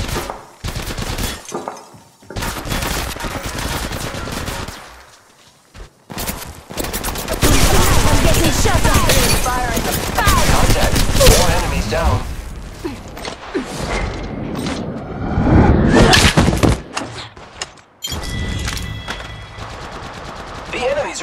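Enemy gunfire in the Apex Legends Mobile battle royale, with loud sustained bursts of automatic fire and rapid shots dominating most of the stretch, broken by short quieter gaps, with voice lines and speech mixed in.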